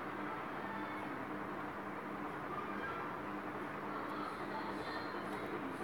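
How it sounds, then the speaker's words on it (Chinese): A light rail train rolls past in the Ao Oni 2 horror video game, a steady continuous rumble with rail clatter holding at a constant moderate level throughout, with no voices. "哦，有轻轨了。"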